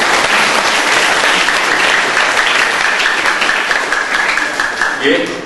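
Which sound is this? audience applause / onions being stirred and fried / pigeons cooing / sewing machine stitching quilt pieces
audience applause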